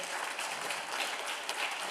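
A dense, sustained round of applause from an audience honoring a speaker after a panel conversation on democracy, many hands clapping evenly and fairly close throughout.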